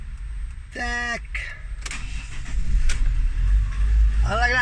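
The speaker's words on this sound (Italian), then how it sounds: "Si accende il motore." A Fiat Ducato camper's engine starts after a few electronic chirps from the vehicle, then settles into a low, steady rumble that grows louder and carries to the end.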